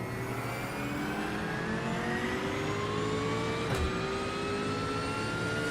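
A GT3 race car engine in iRacing at Daytona drones steadily at high revs, its harmonic whine climbing slowly in pitch, with a brief dip and thump near the end, loud and without any talk.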